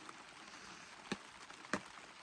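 Soft, steady rain patter at a lakeside campsite during a storm, with two sharper drip or tap sounds standing out; no voices.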